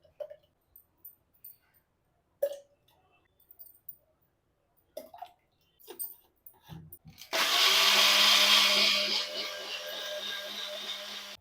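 After a few scattered clicks and taps, a juicer jar holding three to four spoonfuls of rose syrup and lassi base whirs into loud, continuous blending, a harsh steady motor roar that holds to the end.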